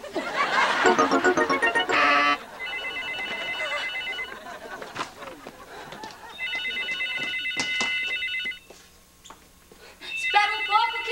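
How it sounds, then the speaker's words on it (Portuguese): A telephone bell rings in repeated bursts with pauses between rings, heard indoors alongside people talking in Portuguese. "Rica, telefone pra você"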